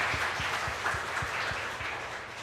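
Church congregation clapping hands at a Presbyterian sacred music Sunday service, a rhythmic, evenly spaced beat of many hands in a reverberant hall, fairly soft and steady throughout.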